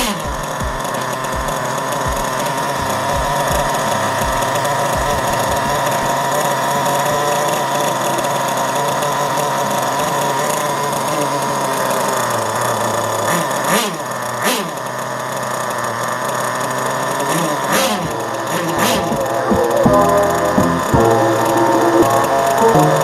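A Kyosho Inferno Neo RC car's nitro engine idles steadily during break-in, with a constant buzzing drone close by and a few sharp clicks and knocks near the end.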